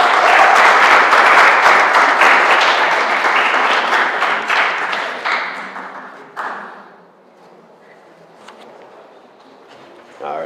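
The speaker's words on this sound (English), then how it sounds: "Give her a round of applause." An audience at an Indigenous student graduation ceremony applauds a medical science graduate, loud clapping that gradually fades over about six seconds, then a quiet stretch with scattered claps and faint movement.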